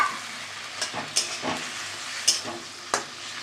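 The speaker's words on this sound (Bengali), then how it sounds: "গ্রেভিটা তো ফুটে গেছে, পটলটা দিয়ে দিলাম।" Pointed gourd going into a boiling gravy in a vegetarian home kitchen, giving a soft bubbling hiss broken by a few sharp clinks and knocks from the utensil, close and fairly quiet with no voices.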